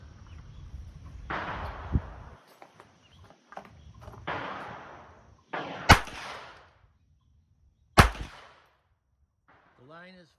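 Pistol shots at a recreational shooting range, with sharp cracks spaced seconds apart among softer handling noises and a faint voice near the end.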